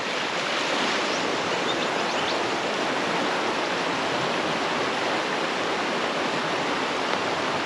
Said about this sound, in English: What a beautiful river.